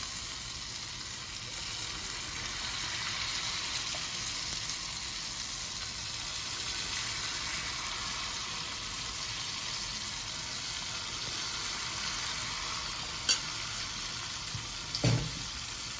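Unniyappam batter frying in a traditional appam pan, giving a steady, soft sizzle that holds evenly throughout with a couple of brief clinks near the end.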